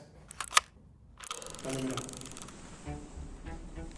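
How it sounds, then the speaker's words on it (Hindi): A single-lens reflex camera clicks a photo, giving a sharp, close shutter snap followed by mechanical whirring and rustling handling noise in a quiet dark setting. "हम इस कैमरा से फोटो क्लिक करने जा रहे हैं"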